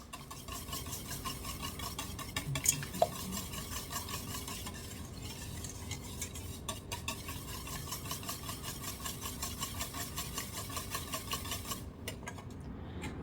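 Pancake batter being mixed in a bowl, a steady rhythmic stirring and scraping that runs for the whole stretch at moderate level with no one speaking and a couple of brief clinks near the start.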